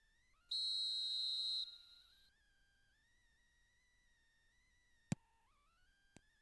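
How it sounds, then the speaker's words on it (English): Referee's whistle in a PES football video game: one long, loud, steady blast, then two short sharp peeps further on, over a faint stadium crowd murmur. "There's the whistle, and here we go."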